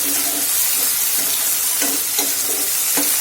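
Finely chopped tomato sizzles in a hot pan for healthy rice-free khichdi, a steady close frying hiss with repeated soft scraping strokes of a stirring spoon.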